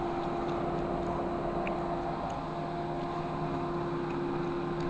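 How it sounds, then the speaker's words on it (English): Cooling fans of a PC running two 8800 GTX cards in SLI whir in a constant, even roar with a faint steady whine, moderately loud and close, with no voices. "that is the sound of a functioning SLI system"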